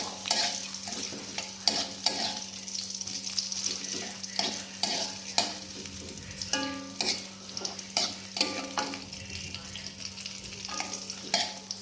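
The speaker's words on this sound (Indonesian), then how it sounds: "Pertama masukkan bombay, lalu kita sampai wangi." Onion is sautéed in a pan, with a steady low sizzle punctuated by repeated scraping and clinking stirs of a utensil against the pan, close and without speech.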